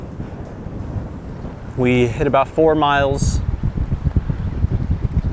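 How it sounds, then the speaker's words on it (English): Strong wind blowing outdoors by a lake in a state park, rumbling loudly and buffeting the microphone throughout while someone speaks briefly partway through. "Nice and windy out here."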